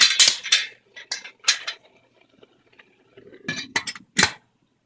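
Metal clanks and clatters as a lid is set on a boiling pot, a few sharp bursts separated by quiet pauses.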